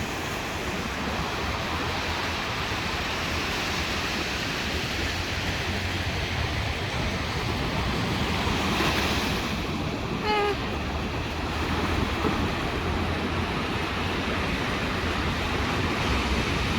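High ocean waves at Haeundae beach in the rain, a continuous heavy roar of surf filling the scene without a break, close and loud with no talking.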